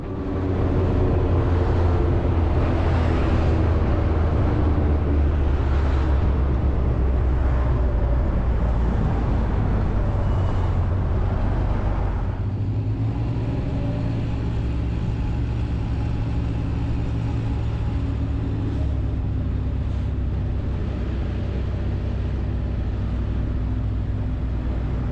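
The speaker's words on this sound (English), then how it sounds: "Make our way through the jungle of traffic." Road traffic in Quartzsite, with a vehicle engine droning and rumbling continuously as it moves slowly through congested streets; no talk.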